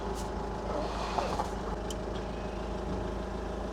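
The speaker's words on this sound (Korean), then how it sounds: "엔진 소리는 되게 좋습니다" A vehicle engine idles steadily with a low, even rumble, accompanied by faint mechanical ticks and a couple of brief higher clicks.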